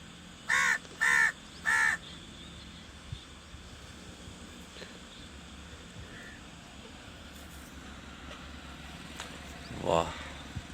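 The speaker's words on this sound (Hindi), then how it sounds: "2, 4, 3 कौवे, एक आता है, उड़ जाता है" Crows caw three times in quick succession near the start, then a single fainter call near the end, against a steady outdoor background hum.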